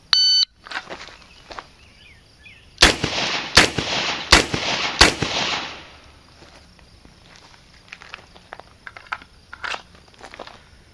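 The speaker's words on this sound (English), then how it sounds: "Draw, kneel, and fire 2 rounds on each target in 8 seconds." Four loud revolver shots ring out in quick, evenly spaced succession at a police qualification course of fire on targets at 15 yards, followed by softer clicks and handling noises.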